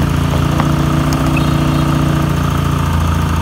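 A Honda SH125 scooter engine idles steadily at about 1,600–1,700 rpm while warming up, a loud close mechanical hum with slight vibration and no talk.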